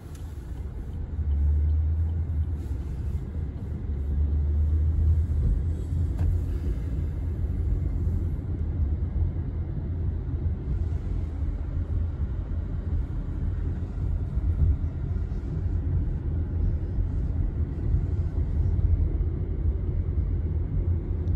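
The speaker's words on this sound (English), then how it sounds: "now we're in the car looking for somewhere to eat" Inside a car being driven, a steady low rumble of road and engine noise carries on evenly throughout, with no talking.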